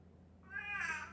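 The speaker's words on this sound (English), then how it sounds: "Every time I try to shoot a video, he starts meowing." A house cat gives a single drawn-out meow, close by and fairly quiet, over a low steady background hum.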